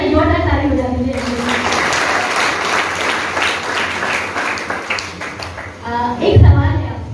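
An audience at an indoor training session bursts into loud, sustained clapping that swells for several seconds and then fades, with a speaker's voice over it at the start and end.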